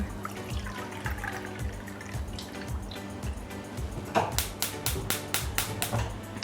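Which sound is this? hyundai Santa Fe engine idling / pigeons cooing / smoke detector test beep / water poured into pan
water poured into pan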